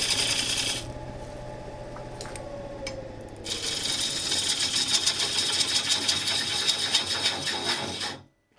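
Woodturning gouge peeling side grain on a piece of elm spinning on a lathe: a continuous close scraping and rasping cut over the motor's hum, briefly quieter then rising to a steady shaving sound before stopping abruptly.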